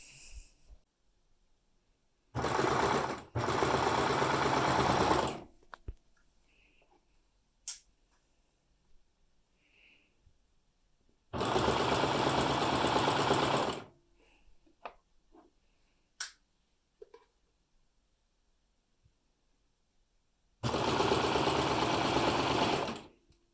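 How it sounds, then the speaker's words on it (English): A sewing machine stitching the back, shoulders and side gathers of a godet top runs in three loud, close bursts of a few seconds each, with quiet handling clicks and pauses between them. "And we're just going to sew to that point."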